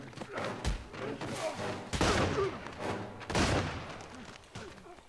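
Gunfire from a LOST TV episode, several loud bursts of shots with heavy thuds, heard amid dialogue and background noise.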